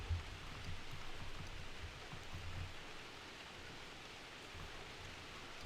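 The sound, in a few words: rain falling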